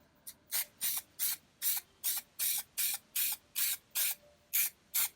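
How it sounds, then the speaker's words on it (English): A spray can hisses in about a dozen short, evenly spaced bursts onto an alcohol-ink art panel, close and fairly loud, with brief pauses between each. "I'm going to go ahead and spray this"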